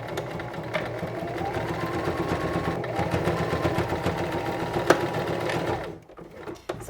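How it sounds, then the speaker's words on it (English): A Singer 1234 sewing machine top-stitches around a tote bag in one continuous run of fast, even mechanical chattering, close and fairly loud, ending with a few slower stitches and clicks. "So I'm going to start with the back stitch and sew all the way around in a big circle"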